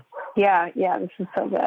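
A small dog of about ten pounds yips and barks in quick bursts, close by, with a person talking over it.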